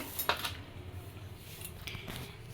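A knife cuts bitter gourd and potatoes in a home kitchen, giving a few faint, scattered clicks and taps against a board over quiet background hiss.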